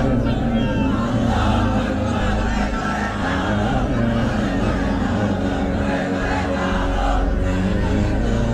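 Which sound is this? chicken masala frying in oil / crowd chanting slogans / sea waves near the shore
crowd chanting slogans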